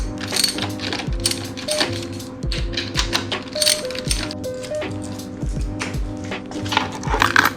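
Two number 10 bolts being removed from a 2021 Suzuki DRZ 400SM motorcycle with a ratcheting tool: rapid metallic clicking and rattling over a constant tonal hum, close and fairly loud, with no talk.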